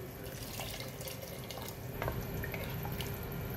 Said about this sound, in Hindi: अब मैं इसमें ये छोला डाल दूंगी, जो बॉईल करे थे छोले उसी का पानी है ये।